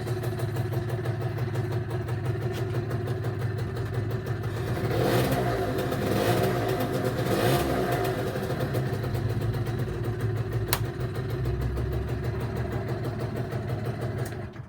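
A vehicle engine with a steering fault runs steadily and close by, its note swelling into a louder rev midway before settling back to a rough idle.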